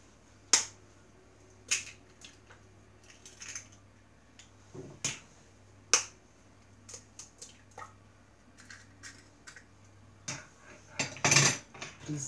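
Two eggs are added to a Thermomix along with sugar. A string of sharp taps and clicks, like shells cracking against the bowl rim, comes at irregular intervals over a low steady hum. A denser clatter follows near the end.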